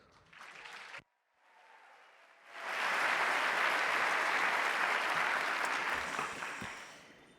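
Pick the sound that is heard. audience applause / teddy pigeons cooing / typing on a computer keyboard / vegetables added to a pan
audience applause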